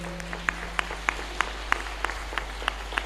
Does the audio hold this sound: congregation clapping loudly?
yes